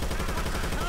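Gunfire in the zombie shooter Left 4 Dead 2 sounds as a dense, continuous rattle of rapid shots that fills the whole brief moment at close range.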